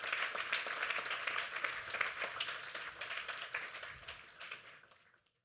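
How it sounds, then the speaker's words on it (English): An audience at a graduation ceremony for a technical studies school applauds, a full, steady round of clapping that fades out toward the end. "Give Dr. Whitley a round of applause."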